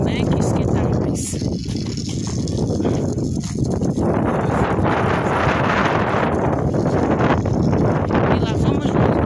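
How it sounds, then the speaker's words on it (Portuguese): Cold wind buffets a microphone outdoors during a walk, a loud, continuous rumbling roar that fills the whole stretch with gusty swells and never lets up. "E o vento tá meio geladinho."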